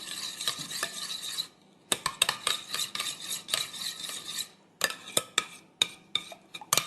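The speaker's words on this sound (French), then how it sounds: "on mélange, simplement" A spoon stirs gelatin into almond milk in a bowl, clinking against the sides in quick, uneven taps and scrapes with brief pauses, close and fairly clear.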